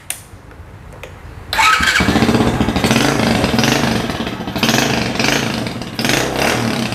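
A small trail motorcycle engine starts and revs through its silencer, a deep throaty roar that swells and dips in repeated throttle blips, close and loud.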